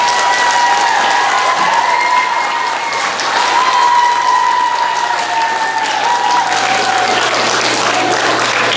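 Sustained, loud audience applause at an elementary school geography bee, a dense crowd clapping steadily throughout with some cheering mixed in.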